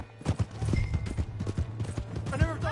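A horse's hooves clip-clop in Red Dead Redemption 2, a quick run of close hoof strikes over game ambience, with a brief whinny near the end and voices talking over it.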